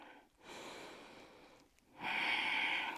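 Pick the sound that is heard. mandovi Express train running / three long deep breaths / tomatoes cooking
three long deep breaths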